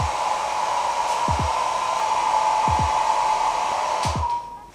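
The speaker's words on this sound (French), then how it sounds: "On va sèche-cheveuter un petit peu le tout." Steady whooshing roar of a hair dryer blowing continuously at close range over epoxy resin, with a few brief low thumps, fading out at the end.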